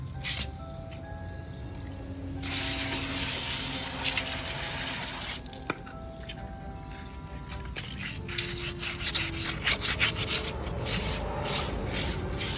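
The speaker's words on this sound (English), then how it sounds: "that same old bit of wet and dry, just clean the spokes down" Wet-and-dry sandpaper rubbing down the spokes of an aluminium alloy car wheel after a rinse, a close, continuous gritty scrubbing with faster strokes in the latter half and no talk.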